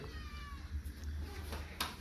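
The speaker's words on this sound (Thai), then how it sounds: "เนี่ยครับแมววิสกี้" A cat meows in a garage or workshop setting, a couple of short mewing calls over low background noise, fairly close.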